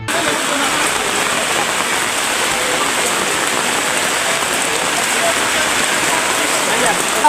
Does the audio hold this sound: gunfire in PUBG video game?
no